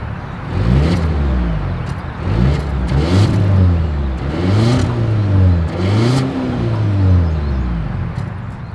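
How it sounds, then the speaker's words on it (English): A 2024 Volvo XC90 seven-seat luxury SUV revs its engine through the exhaust in several swelling pulls, each rising in pitch and dropping back, loud and close with no talk. "As always, here is that exhaust clip."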